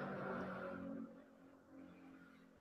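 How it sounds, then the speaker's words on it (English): Car passing on the road outside, a faint muffled engine rumble that swells and fades away, heard indoors at low level with no talk. "I don't know how much my mic picks up the passing traffic"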